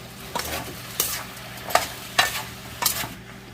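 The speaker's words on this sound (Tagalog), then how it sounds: "Isa-isa tayong nagigisa ng gulay, hindi sabay-sabay." Vegetables including chayote and shiitake mushrooms stir-fried in a pan for chop suey, with five sharp scraping stirs over a steady low sizzle, close and fairly loud.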